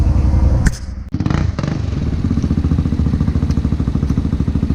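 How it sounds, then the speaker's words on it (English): A long-travel Honda Pioneer 500 side-by-side revs hard in a mud hole, with a loud, close, pulsing engine roar. The engine briefly drops off, then climbs back to a sustained, throbbing rev. "your rim's just spinning in your tire, Dan."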